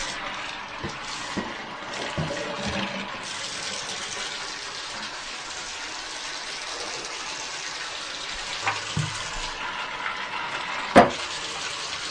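A steady gush of running water fills a basin for rinsing, holding an even, close hiss throughout, broken only by a few faint knocks and one sharp clack near the end.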